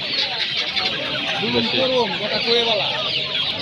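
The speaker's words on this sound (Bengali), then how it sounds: "ফাউমি মুরগি এগুলো" Several Fayoumi chickens cluck and chatter close by in short overlapping calls at a livestock and bird market, over a busy background with people talking.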